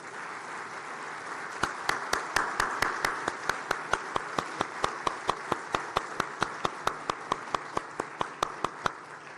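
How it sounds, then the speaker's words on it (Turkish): Rhythmic clapping sounds at a ministerial event honoring the first Turkish astronauts: sharp, evenly spaced claps in a steady beat over a soft background of scattered applause, fairly quiet and distant. "ilk Türk uzay yolcuları Alper Gezer Avcı ve Tuğa Cihangir Atasever'i de hep birlikte alkışlayalım."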